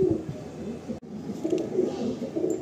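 Pigeons coo steadily in a Madrasi pigeon loft, a low continuous burbling chorus of several birds close by, with a brief dropout near the middle and no talk.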